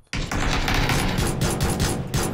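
Rapid automatic gunfire from the PUBG video game, a dense burst of close, loud shots running almost without a break after a short silent start.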